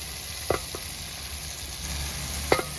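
Vegetables for chicken kurma sauté with coriander powder in a pan, a faint steady sizzle punctuated by two or three brief spoon scrapes, heard close and alone.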